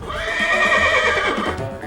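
A racehorse neighs in the horse racing video game Gallop Racer 2004, one loud whinny with a wavering, descending pitch lasting nearly two seconds, heard alone.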